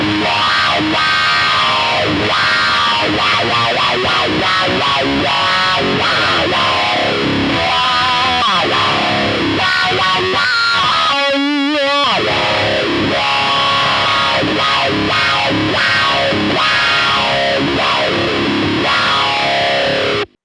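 Distorted electric guitar plays a loud solo through a 100-watt amplifier with a Fane Crescendo AE speaker, its tone sweeping and quacking as a wah pedal opens and closes. The playing is continuous and no one speaks.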